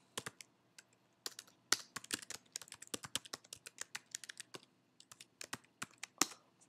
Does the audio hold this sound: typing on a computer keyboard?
yes